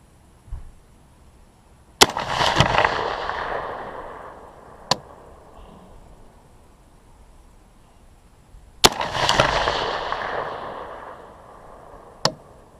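Two loud, sharp rifle shots from a Sig 716 at a 100 yard range, each followed by a long rolling echo, with fainter distant pops between and after.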